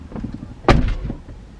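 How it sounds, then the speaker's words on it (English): A Tesla car door shuts with a single solid thump partway through, close by, with faint low background rumble before and after. "I'm closing the door."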